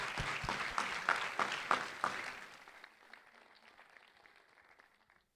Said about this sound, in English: Big round of applause in the Applied Sciences category.